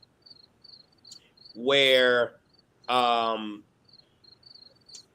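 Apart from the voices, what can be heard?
crickets chirping in the background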